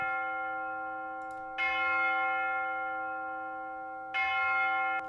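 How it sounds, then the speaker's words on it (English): A deep church-style bell tolls twice in Minecraft, each strike ringing out clearly and decaying slowly over a couple of seconds, alone with no talk. "The bell's tolled, Joel."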